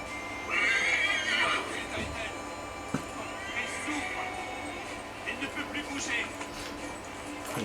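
Horse neighing in the Assassin's Creed III video game, two loud whinnies over game ambience with a busy outdoor bed, followed by fainter scattered calls and movement.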